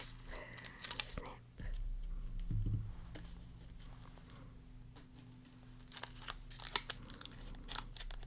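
Scissors snipping open a Pokemon card pack in a quiet ASMR setting, a few crisp close cuts and soft crinkles with a low hum underneath and no clear talk.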